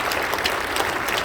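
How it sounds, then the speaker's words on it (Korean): Steady applause from a congregation at an Easter dawn joint worship service, a dense, even wash of clapping that fills the whole short moment without breaks. "박수 한번 해주시기 바랍니다"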